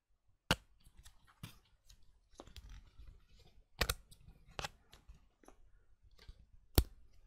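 Board game cardboard pieces snapping out of a punchboard, a series of sharp, quiet close-up clicks and pops spaced irregularly, with faint rustling of cardboard between them and no talking.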